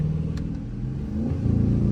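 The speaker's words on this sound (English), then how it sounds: "if you were to get the Dodge Charger RT and get your mid mufflers cut off, this is what your car would sound like" A Dodge Charger RT with its mid mufflers and resonators removed rumbles with a deep, loud exhaust note that rises in pitch partway through, as if revving, heard close up.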